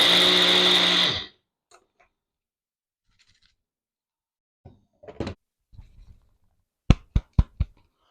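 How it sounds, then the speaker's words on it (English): A Ninja blender gives one loud, short motor burst as it pulses dehydrated eggs into powder, then cuts off abruptly. Near silence follows, broken by scattered knocks and a quick run of sharp taps as the container is handled. "blending in the Ninja or any other blender and just blending and blending"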